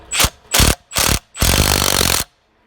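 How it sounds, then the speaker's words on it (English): Ratchet socket wrench with a deep socket running on Audi TT wheel nuts, three short loud bursts of clicking followed by one longer sustained run, close up with no talk. "And we'll start it off again with the deep socket."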